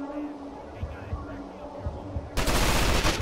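Gunfire in the Manhunt video game, quiet scattered shots under a murmuring background, then a sudden loud, sustained rattle of automatic fire in the last second.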